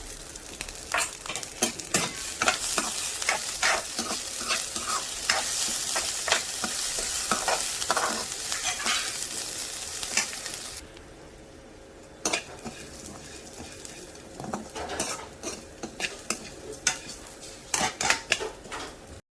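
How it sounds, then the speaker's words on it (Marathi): Basmati rice sizzles loudly in ghee in a pan as a utensil scrapes and clatters repeatedly. The frying sound drops off halfway, then stirring clinks continue. "तूप टाकतो यात तांदूळ टाकून देऊया"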